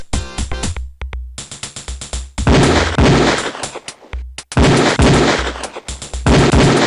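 Beretta pistol fire rings out at a police firing range in Police Quest 4, with rapid loud shots in dense bursts and short pauses between volleys.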